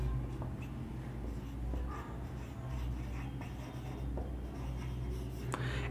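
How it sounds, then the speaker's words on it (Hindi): Pen writing notes on paper, a continuous soft scratching of strokes close by over a steady low background hum, with no talk. "एक बात और लिख दे रहा हूँ मैं"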